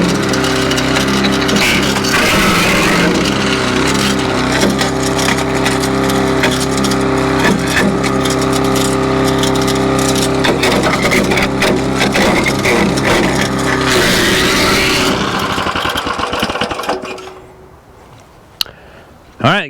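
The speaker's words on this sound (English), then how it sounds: "there is your 7 horsepower homeowner grade MechMaxx 2-inch wood chipper" Homeowner-grade MechMaxx 7 horsepower 2-inch wood chipper running steadily while sticks are fed through, with a loud constant engine drone, bursts of crunching and splintering wood, and the machine cutting off near the end.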